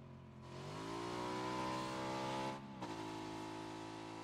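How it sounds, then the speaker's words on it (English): A motorcycle in a video game revs up and drives close past, a steady loud engine drone that rises in pitch, dips briefly, then settles, with no talking. "Motorcycle driving right by me toward the other movement."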